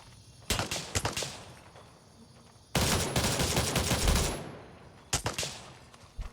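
Gunfire in the military shooter Gray Zone Warfare: a few quick separate shots, then a sustained dense burst of automatic fire lasting about two seconds, followed by more scattered single cracks, loud and close with no talking.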